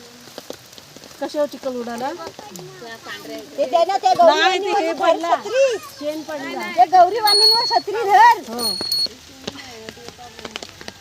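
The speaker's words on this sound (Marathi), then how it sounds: "घंटा वाजवा घाना घंटा" A small ritual bell rings in a few quick, bright strikes late in the clip, underneath lively conversation, during a household Gauri festival welcome.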